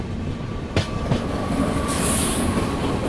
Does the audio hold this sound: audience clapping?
no